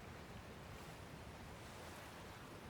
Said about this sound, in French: Une belle cascade.